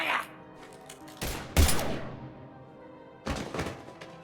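Gunfire in the video game Mass Effect 3 comes as a few heavy, sharp bursts, one especially loud thump near the middle and another cluster toward the end, over a low game ambience.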